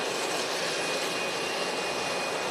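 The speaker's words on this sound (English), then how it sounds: "And the EasyJet just touching down. It's in from Paris, A320 Neo" An EasyJet Airbus A320neo from 2018, in from Paris, touching down at windy Manchester Airport, gives a steady, broad jet roar that holds at an even level throughout.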